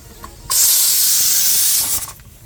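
A pressure cooker used for cooking dal lets out a loud, steady hiss of escaping steam for about a second and a half, starting abruptly and tapering off near the end, with no talking.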